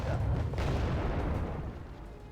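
Mortar fire and shell explosions from the Wargame Red Dragon strategy game rumble as a continuous low, dense barrage at moderate level, with a sharper burst about halfway through and no talk over it.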